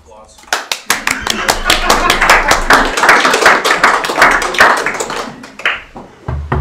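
At a committee meeting, a small group claps for a presenter, beginning with a few scattered claps, swelling into close, lively applause, then thinning out as voices return near the end.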